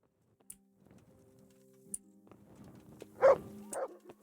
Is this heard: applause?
no